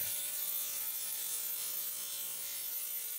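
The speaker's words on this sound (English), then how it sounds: "it always pays to sand your components as you go along" Steady hand sanding of a wooden board, continuous even rubbing with no breaks or voices throughout.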